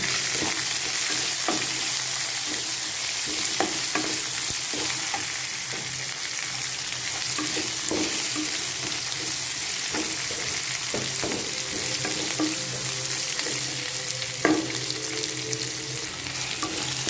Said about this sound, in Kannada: ಇವಾಗ ಹಸಿರು ಮೆಣಸಿನ್ಕಾಯಿ ಹಾಕ್ತಾಯಿದ್ದೀನಿ, ಒಣಮೆಣಸಿನ್ಕಾಯಿ ಜೊತೆ ಅಪರೂಪಕ್ಕೆ.